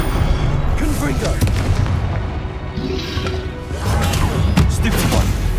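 Confringo spell explosions in the Hogwarts Legacy video game on PS5 come as loud, dense booms and crackling blasts over a continuous rumble of battle noise, without letup.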